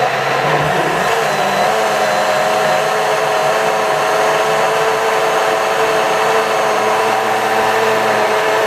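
A blender whirring through a cranberry juice smoothie, a loud steady motor drone with a whining tone that holds continuously after a brief start-up.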